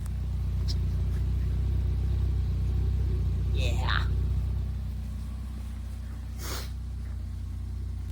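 A Volvo 940 Turbo engine idles steadily with a low, constant rumble in cold weather, and a voice briefly speaks over it.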